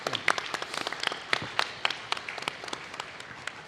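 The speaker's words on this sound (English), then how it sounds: "Applause for Douglas." Scattered applause from a small conference audience, a few people clapping unevenly at moderate distance, thinning out over a few seconds with no voices on top.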